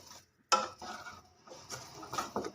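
Carrot halwa stirred with a spoon inside a pressure cooker after cooking, giving a sharp metallic scrape at the start followed by soft, close scraping and clinking sounds with no talk.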